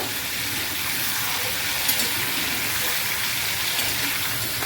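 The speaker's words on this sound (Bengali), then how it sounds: "এবার দেখো চিকেনটা একটু হলুদ আর একটু লবণ দিয়ে একটু হালকা করে নেড়ে নেব।" Chicken with turmeric and salt stirred in hot oil, a steady broad sizzle and frying hiss with faint stirring scrapes, continuous and close, with no talk.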